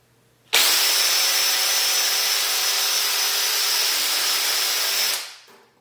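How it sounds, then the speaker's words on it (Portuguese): A power drill fitted with a tube expander bit whirs at a steady high pitch for about four and a half seconds, then spins down and stops. "a gente vai utilizar aqui o nosso alargador, né, da furadeira, que adianta bastante o serviço"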